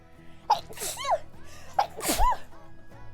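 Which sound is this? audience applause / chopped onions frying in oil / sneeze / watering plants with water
sneeze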